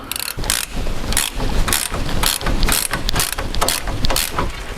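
A ratchet on an extended socket undoes a brake caliper bolt during a car brake disc replacement: repeated bursts of close, rapid metallic clicking with brief pauses between strokes, no talk.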